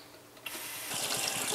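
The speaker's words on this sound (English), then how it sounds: "I do a couple of rinses with the water" Tap water runs into a sink to rinse freshly developed black-and-white film, a steady hiss that swells louder partway through, with no voices.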